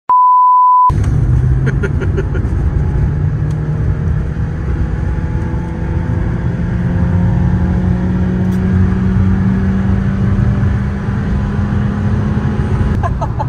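Hyundai Veloster N racing on a circuit during a Sunday free practice day, its engine droning loud and steady as it passes, after a short electronic beep at the start.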